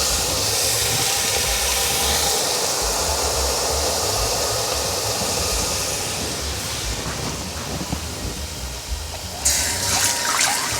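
Frozen lobster heats in a hot pan, giving a loud, steady broadband sizzle and hiss that runs without a break and eases slightly near the end.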